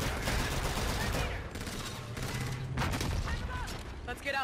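Sustained gunfire from the space battle in Call of Duty Infinite Warfare, loud and continuous bursts with explosions, overlapping a person's excited talk throughout.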